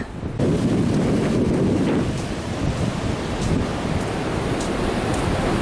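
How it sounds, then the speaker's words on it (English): Strong wind buffets the microphone on the beach at Newport, Oregon, over a continuous roar of surf, loud and close, with a broad rushing wash that swells and eases without pause and no talking. "immediately along the beach we have a lot of wind and a lot of fog"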